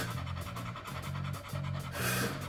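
A tired, athletic female dog pants steadily after a training session, quick rhythmic breaths close to the listener and continuing with no voices over them.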